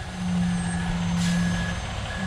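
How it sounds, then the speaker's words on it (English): Concrete truck on a farm pour site for a grain bin, a steady diesel idle rumble with evenly spaced high reversing beeps repeating over it. "We've got concrete trucks everywhere"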